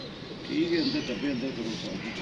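A female pigeon gives a few soft, low coos close by, half buried under someone talking over it.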